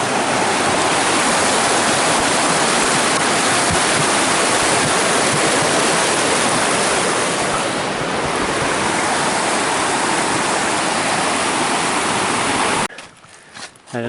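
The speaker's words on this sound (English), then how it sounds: "another significant rock wash creek with Rainier looming over" A rocky mountain creek below Mount Rainier on the Wonderland Trail rushes loud and steady over stones for most of the stretch, then cuts off abruptly near the end.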